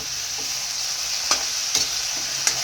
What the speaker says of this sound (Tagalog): Ilalagay na natin ang ating native chicken.